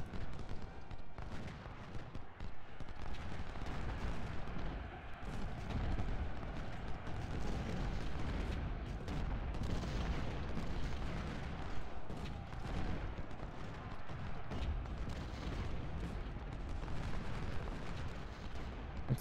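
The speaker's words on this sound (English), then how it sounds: "Some enemy artillery." Enemy artillery in Ultimate General: Civil War rumbles as a continuous low booming barrage, distant and dense, staying steady and fairly faint across the whole stretch.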